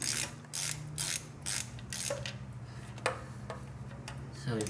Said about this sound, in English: Make sure it ratchets the right way.